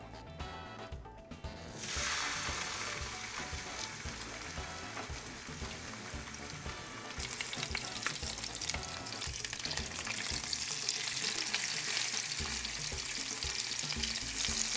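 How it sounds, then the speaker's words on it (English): A veal roast sizzles and spits in hot olive oil in a non-stick pan, a loud continuous crackle that swells after a quieter start, with occasional stirring scrapes. "We're going to brown the roast now on all sides for about 5 minutes in a non-stick pan."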